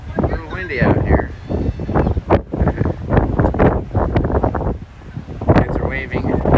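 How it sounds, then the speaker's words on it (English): Gusty wind buffeting the microphone on the deck of the Coho ferry sailing from Victoria, British Columbia, loud and uneven throughout, with people talking over it and waves faintly beneath. "A little windy out here."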